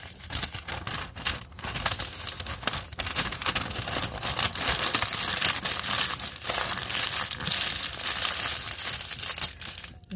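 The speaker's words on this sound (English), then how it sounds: "Just wrap them in parchment paper." Leftover food being wrapped in parchment paper, a continuous close crinkling and rustling that shifts in bursts as the sheet is folded and pressed around it.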